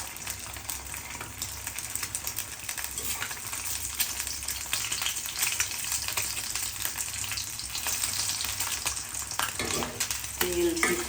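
Two eggs frying in hot oil in a home kitchen pan, a dense, continuous crackling sizzle with sharp spattering pops throughout, fairly close, and a brief clatter near the end.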